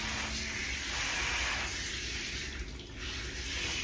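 Tap water runs steadily onto hair during a salon shampoo, a dense continuous splashing rush that stays loud throughout with a slight dip near the end.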